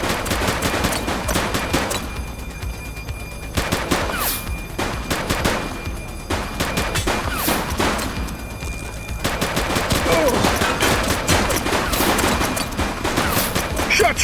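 Bursts of gunfire from a police shootout in the video game The Precinct, rapid overlapping shots in dense volleys that stop briefly and then resume, loud and close, with a few short pauses between the barrages.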